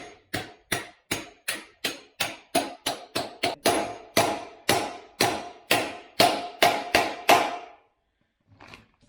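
A star nut is hammered into the steerer of a Marzocchi Bomber 58 fork supported on timber: about twenty sharp, evenly spaced metallic taps that speed up slightly, then stop, followed by a faint clunk.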